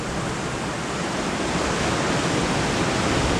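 Ocean surf breaking near a waterfall on the rocky Vancouver Island coast at Sombrio: a steady, dense roar of rushing water, loud and continuous throughout with no voices.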